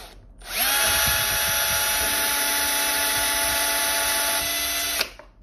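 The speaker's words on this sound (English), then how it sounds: "you just work your way up basically using these larger drill bits" A power drill bores through material with a progression of larger, fairly blunt drill bits, a loud steady whine that starts abruptly, holds for about four seconds and cuts off as the bit breaks through.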